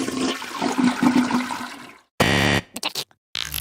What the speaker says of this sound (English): If you pick this answer hoping to hear a toilet flush sound